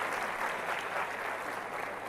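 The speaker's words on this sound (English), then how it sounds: "I want to have a big round of applause" An audience at a smartphone launch event applauds in a steady, even wash of many hands clapping, moderately distant and sustained without a break.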